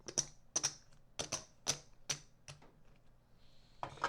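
Game cards from the Too Many Bones board game being shuffled by hand: a series of sharp, close clicking snaps in uneven bursts, with no talking.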